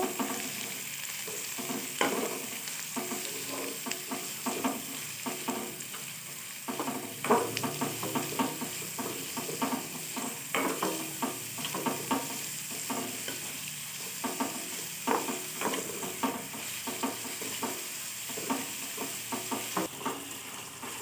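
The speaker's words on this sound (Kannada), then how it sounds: "ನೋಡ್ರಿ ಚಂದಾಗೆ ಫ್ರೈ ಆಗತ್ತಾನ ಇಟ್ಕೊರಿ ಸ್ವಲ್ಪ ಹೊತ್ತು" Onions frying in a pan for onion curry, a continuous close sizzle with repeated sharp scraping strokes of a spoon at an uneven pace throughout, no voices.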